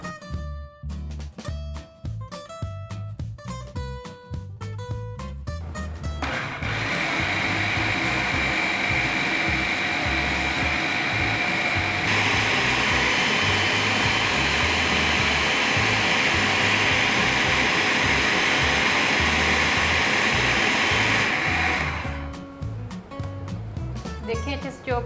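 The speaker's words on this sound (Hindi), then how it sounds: "तो अब हम इसे चॉपर में डाल के अच्छे से चॉप कर लेंगे" An electric chopper whirs steadily as it minces cooked beef mince for shami kababs, a loud continuous motor drone lasting about fifteen seconds, with background music before and after.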